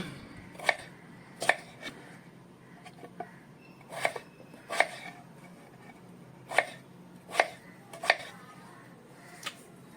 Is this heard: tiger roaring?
no